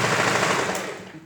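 A sewing machine stitches a lined princess-dart blouse in one loud, close, rapid mechanical rattle that slows and fades slightly at the end.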